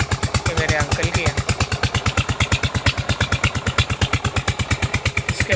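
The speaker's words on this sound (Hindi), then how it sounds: "ये तेल वाला ना ये डीजल से चलता है, इसमें बहुत शोर होता है।" A diesel tubewell pump engine runs loud and steady with a fast, even thumping rhythm and clattering, all through.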